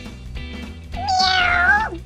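A single drawn-out cat meow rises and then falls, clear and close, voiced for a kitty cat rubber duck toy, following a low murmur of background sound.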